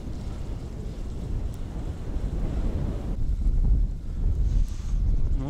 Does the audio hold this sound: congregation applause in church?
no